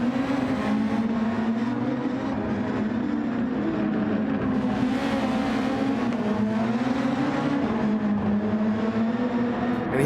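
Formula 1 car in a Nürburgring Grand Prix race working through a chicane, a loud continuous engine note whose pitch wavers up and down with throttle changes over ten seconds, no voices.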